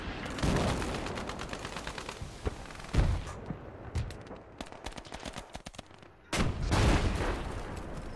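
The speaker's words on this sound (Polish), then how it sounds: "Katiusze przysłali!" Katyusha rocket artillery barrage in the World War II strategy game Call to Arms: Gates of Hell, on the Eastern Front: scattered heavy booms and crackling blasts, with a loud cluster near the start and another rising near the end.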